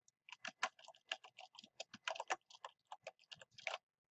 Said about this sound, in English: I'm going to hit the down arrow on my keyboard again